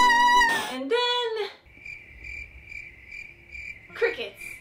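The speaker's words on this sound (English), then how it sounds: "crickets." Crickets chirping sound effect, a thin high chirp repeating in quick regular pulses through the middle of the clip, framed by brief voices at the start and end.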